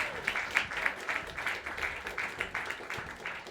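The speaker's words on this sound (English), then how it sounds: "Give him a round of applause" Audience applause at a real estate social media panel welcoming a panelist, a moderately quiet burst of many hands clapping with an uneven, pulsing rhythm throughout.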